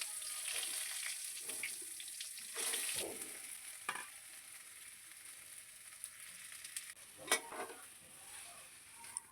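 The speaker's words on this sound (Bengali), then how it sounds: "প্রথমে আমি কি করব বেগুনটাকে ভেজে নেবো" Eggplant fries in hot oil on a gas stove, a soft steady sizzle under occasional clicks and stirring scrapes, faint and fairly distant.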